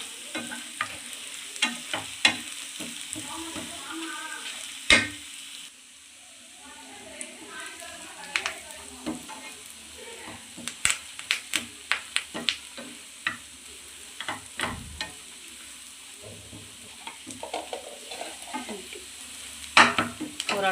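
Garlic chilli chicken fries in a pan, restaurant style, with a soft, steady sizzle. Irregular scrapes and clicks from stirring recur throughout, fairly quiet and close.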